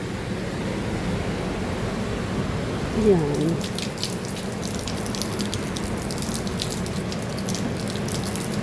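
Water is poured for a face cleaner, a steady soft splashing stream running throughout, while a voice speaks briefly.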